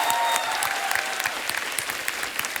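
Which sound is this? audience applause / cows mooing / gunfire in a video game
audience applause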